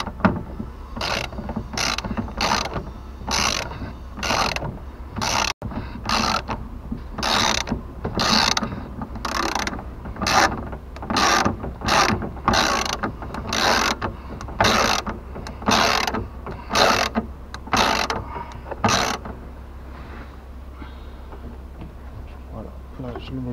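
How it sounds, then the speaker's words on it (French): A tool ratchets in quick repeated bursts while screws are driven back into a Nissan Qashqai mirror assembly. The loud, close clicking runs in short pulses for about twenty seconds and then stops. "Alors on revisse tout ça."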